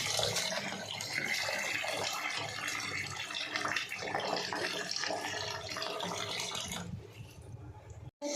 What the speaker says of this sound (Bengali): শাকগুলো ধুয়ে পরিষ্কার করে নিচ্ছি।